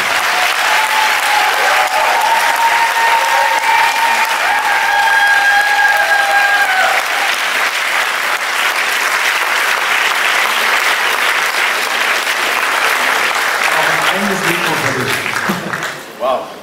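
Long, loud applause rolls on from a film premiere audience welcoming a guest to the stage, dense and steady, with whistles early on and a voice cutting in as it fades near the end.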